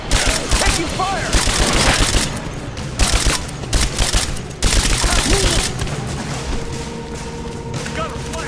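Gunfire in the video game Rise of the Tomb Raider comes as loud, dense bursts of rapid shots and booms in several waves, with shouting voices mixed in and a quieter stretch near the end.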